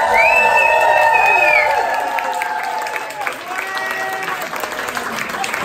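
Audience applause with some cheering at an evening show introduction, a dense burst of clapping and raised voices that is loud at first, then eases to a lighter patter as a few people call out.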